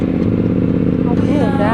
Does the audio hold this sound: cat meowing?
no